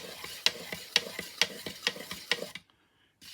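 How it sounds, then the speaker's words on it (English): Porcelain slip for casting doll house dolls being stirred in a container, a steady rhythm of wet scraping strokes about twice per second, close and moderately loud, stopping abruptly near the end. "Firstly, stir the slip thoroughly."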